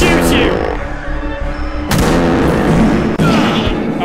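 A shotgun firing in the video game Fart Killer: loud, booming shots with sharp attacks, one clearly near the middle and another toward the end, over a constant noisy game soundtrack with some voice.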